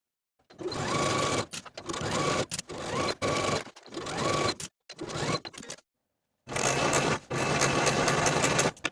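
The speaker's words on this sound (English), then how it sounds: "Sew your yoke seam with a 5/8 inch seam allowance" Sewing machine stitching the yoke seam of a handmade dress, running in about seven bursts of steady whirring and rapid needle clatter separated by short silent pauses, close and clear with no talk.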